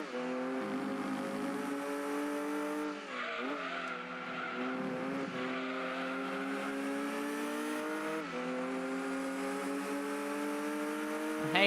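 Racing car engines in Gran Turismo 2, a steady high-pitched engine whine from a race car behind a Jaguar, holding pitch with brief gear-shift dips and rises, loud and continuous throughout.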